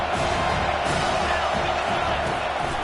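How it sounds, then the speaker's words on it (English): A football stadium crowd at a Ragin' Cajuns game against Miami roars and cheers in a steady, dense wash of noise that stays loud and unbroken throughout. "This crowd knows when to bring it."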